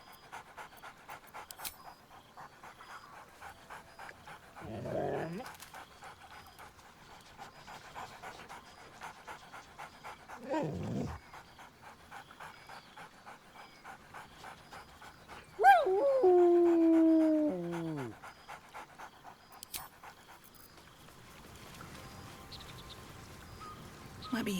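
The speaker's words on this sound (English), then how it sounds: "Scratch barks merrily in something like agreement." Scratch, the dog companion in Baldur's Gate 3, pants steadily with a few short whimpering yips and one drawn-out whining bark-howl, close and fairly quiet against a faint background hum.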